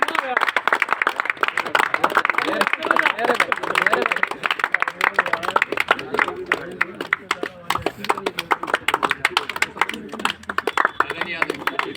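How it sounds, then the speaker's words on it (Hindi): A crowd claps steadily at a cricket final prize ceremony, brisk dense applause running throughout while a man announces names loudly over the top. "ताली बजाते रहो"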